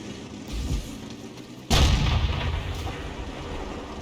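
Tank cannon fire in the online game World of Tanks on the EU server, one sudden heavy boom that cuts through low battle rumble and then rolls off into a sustained dull roar.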